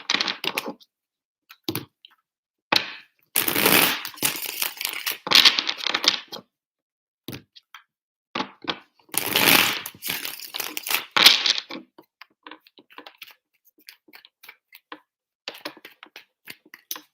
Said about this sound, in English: Three shuffles for Libra.